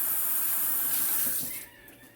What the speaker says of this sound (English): we're going to get it wet or damp